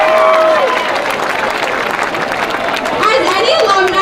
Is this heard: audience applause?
yes